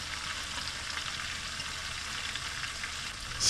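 Red onions and mushrooms sizzle and brown together in a hot pan, a steady close frying crackle that holds evenly throughout, with a sharper hiss right at the end.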